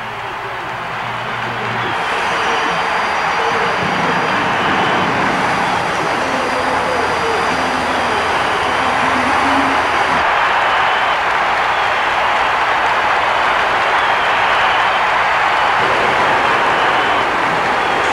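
Twin jet turbine engines on a tractor-pull machine in Tampa, Florida, roar in a sustained, loud, broadband blast that holds steady throughout, with crowd noise faintly underneath.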